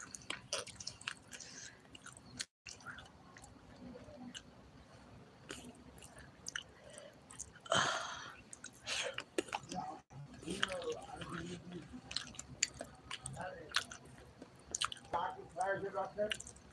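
Someone eats a meal of greens and fish, with faint, wet chewing and squishing close to the mic, broken by a louder smack partway through and light talk in the background.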